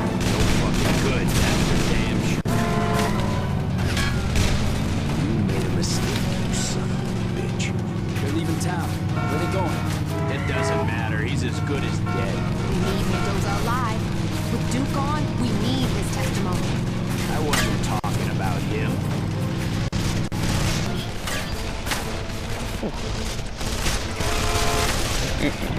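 Sustained gunfire from the video game Call of Juarez The Cartel, dense and continuous throughout with bursts layered over a steady low rumble, while people talk over it.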